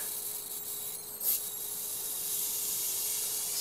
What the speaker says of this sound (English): let me get the old heat wrench out and we'll try it again